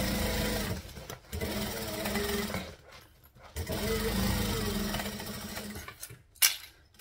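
Sewing machine stitching a half-inch seam on a bag: a loud, continuous mechanical whirr with brief pauses and restarts, close to the microphone, and a short thump near the end.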